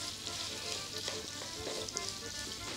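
Pork sears in a hot frying pan with a steady, close sizzle that crackles continuously throughout, with no voices.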